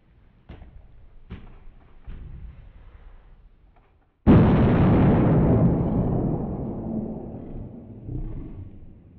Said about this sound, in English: the reaction that was taking place there was this very reactive nitrogen triiodide that isn't very stable